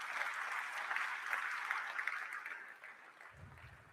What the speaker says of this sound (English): Please give him a round of applause for making this amazing place possible.